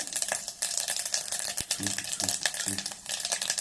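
Mustard seeds and cumin crackle and sizzle in hot oil with steady popping, close and fairly loud, with a few low knocks of a pan underneath.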